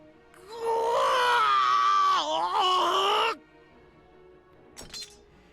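A character in the visual novel game Hakuoki lets out a long, loud cry of anguish lasting nearly three seconds. The cry wavers and dips partway through, then cuts off into quiet, with a brief faint sound following.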